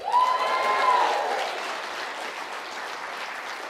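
A conference crowd at a travel bloggers' keynote bursts into loud applause that gradually fades to lighter scattered clapping over a few seconds, no speech over it.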